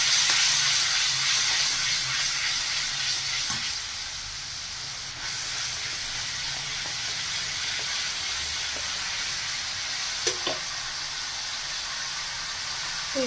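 Water poured into a hot pan of fried spices with oil, cauliflower and potato for a Bengali curry, giving a steady broadband sizzle and steamy hiss that settles slightly softer partway through, with a few small clicks of utensils.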